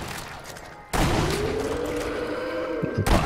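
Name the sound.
gunfire from a rifle in the video game Sniper Elite Nazi Zombie Army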